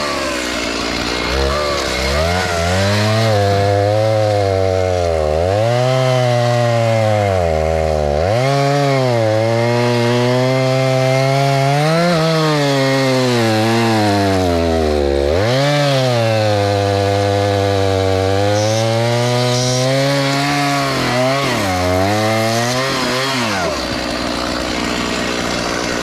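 A chainsaw cuts through a log from the underside, its engine loud and close, revving up and down in long surges as the chain bites into the wood.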